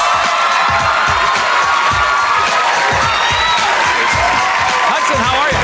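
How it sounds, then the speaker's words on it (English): A studio audience on a dating television show claps and cheers loudly and continuously, with whoops and shouts mixed into the dense applause throughout. "Let's throw out some claps and some smiles."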